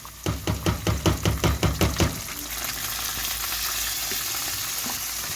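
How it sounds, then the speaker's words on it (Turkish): Pilaf rice goes into a hot pan with a rhythmic burst of about ten scraping stirs over the first two seconds. A loud, even sizzle of frying follows and carries on alone. "Bakın şöyle pirinci bir ekliyorum. Pilavlık pirinç."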